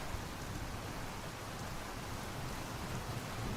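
Steady, even rainfall in the GodSIM god game built in GameMaker Studio 2, a dense hiss of rain filling the whole stretch at moderate level with no voices over it.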